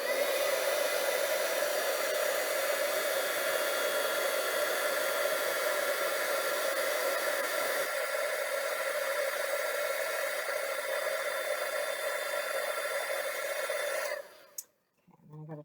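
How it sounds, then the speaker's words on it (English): An electric heat tool blows hot air to emboss a stamped greeting card, a loud, close, steady hair-dryer-like whoosh holding for about fourteen seconds before cutting off, followed by faint handling noises. "So I'm going to plug in my heat tool, and here we go."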